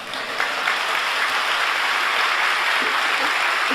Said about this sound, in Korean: 우리 모두가 힘차게 감사의 박수를 드리기 원합니다.